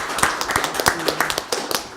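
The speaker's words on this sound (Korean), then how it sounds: "그 이분들께 감사의 박수 한번 보내드릴까요?" A small room of attendees at a policy forum on child diabetes gives a brief, sparse round of clapping for government officials, individual claps distinct and fairly quiet.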